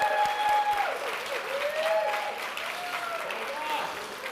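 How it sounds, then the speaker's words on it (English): Applause for a school district's data team at a leadership summit closing presentation, a moderate crowd clapping under a steady hum, with faint voices and tonal sounds drifting through the wash of hands. "Teresa, Lisa, give them a big round of applause."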